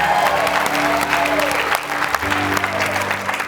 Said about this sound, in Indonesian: Boleh kita berikan tepuk tangan untuk Joshua.